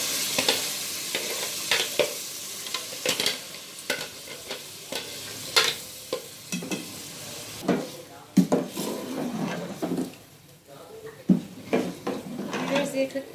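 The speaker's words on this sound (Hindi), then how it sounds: "अब हम इसको भूनने तक इसी तरह पकाएंगे" Chicken with ground green masala fries in a pot and is stirred again and again, with sharp spoon scrapes and clatter over a steady sizzle, close and fairly loud.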